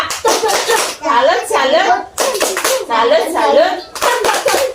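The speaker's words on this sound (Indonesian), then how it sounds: "Tepuk salut untuk kita semua." Children at school chant the rhythmic Indonesian "tepuk salut" clapping game, loud sung syllables alternating with bursts of sharp, patterned hand claps in a repeating rhythm.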